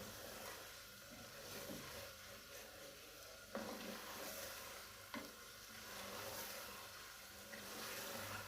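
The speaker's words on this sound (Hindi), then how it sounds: "अब हम इसको 5 से 10 मिनट भून लेंगे" Liver masala with fenugreek frying in a pan over raised heat, a steady soft sizzle with occasional stirring scrapes, close but fairly quiet.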